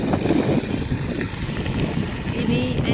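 Wind buffets a microphone outdoors on a gusty day in rural Laos, a steady loud low rumble that covers the whole stretch with no clear voices.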